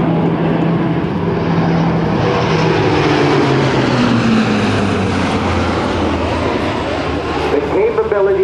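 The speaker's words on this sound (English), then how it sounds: "Now listen to this airplane." A C-130J-30 Hercules turboprop makes a high-speed pass at an air show, its loud propeller drone and engine roar sweeping steadily with a falling pitch as it goes by. Distant voices sit under the noise.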